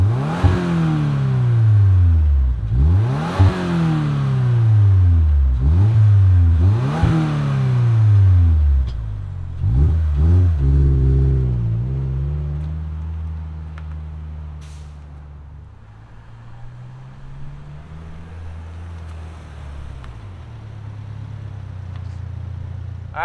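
A base Subaru WRX fitted with an STI exhaust fires up and revs hard several times, with a rising and falling exhaust roar, then settles into a low, steady idle.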